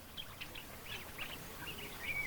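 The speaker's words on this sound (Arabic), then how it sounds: "إنها دجاج الماء." Moorhens call among grass along a riverbank, giving faint, scattered short chirps and clucks over a quiet outdoor background.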